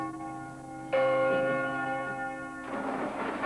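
A deep church bell tolls with a long, sustained ringing tone, joined by a second strike that blends into a dense, reverberant wash of bell harmonics.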